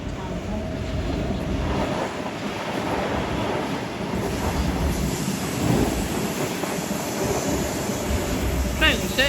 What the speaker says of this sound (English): T61 and train arriving into platform 3 for a Bondi Junction service